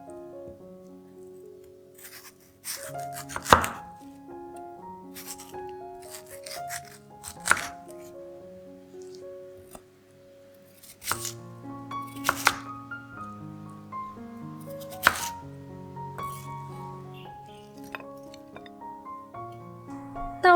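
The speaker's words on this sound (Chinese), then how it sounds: "切块放到盘里备用。" A knife chopping food into chunks on a board while making vegetarian rojak, with sharp, irregular knocks that come in small bursts over steady background music.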